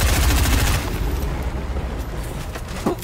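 Rapid SMG gunfire from the video game Fortnite, a loud dense burst of shots in the first second that gives way to quieter scattered game noise.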